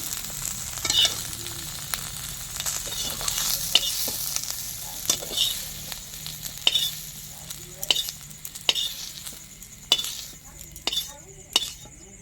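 Pumpkin pieces frying in oil in a wok with a continuous sizzle, while a metal utensil stirs and scrapes, giving repeated sharp clinks and knocks against the pan.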